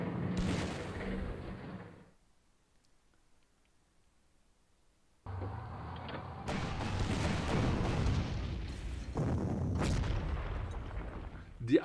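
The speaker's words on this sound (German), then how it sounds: "Die Artillerie baut hier ein massives Sperrfeuer auf." An artillery barrage in the wartime strategy game Panzer Corps: a burst of booming shell fire, a few seconds of near silence, then renewed rolling detonations and rumbling impacts that keep going to the end, with a voice talking over parts.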